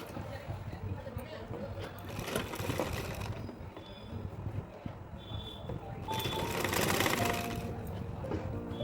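A sewing machine runs a close edge stitch along woolen fabric while attaching frills, humming and rattling steadily in continuous runs that swell louder toward the end, close to the microphone.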